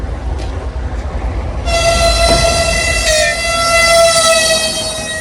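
A train pulls into a station platform in Russia and sounds a loud, sustained horn, with the rumble of the approaching train under it.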